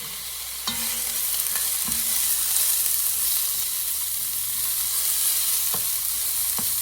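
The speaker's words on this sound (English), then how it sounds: "now we're going to add 1 large diced potato and a tablespoon of minced garlic, or 2 cloves of garlic chopped up" Diced potato and minced garlic hit a hot pot and sizzle steadily for several seconds, a loud even hiss broken by a few sharp clacks of a utensil against the pot.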